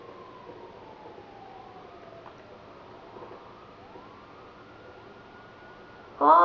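A police siren in GTA 5 Online rises and falls in repeated faint wails that sound distant, then a sudden loud burst comes in at the very end.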